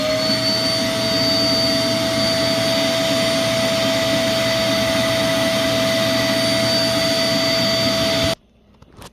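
A Hoover Platinum shoulder canister vacuum cleaner, model SH10000, runs steadily and loudly with a stretched hose, giving a constant whine, then cuts off abruptly near the end.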